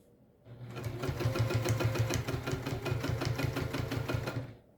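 Close and loud, a sewing machine back-stitches a mini backpack at a long stitch length, running in one continuous rapid rhythmic burst of about four seconds before stopping.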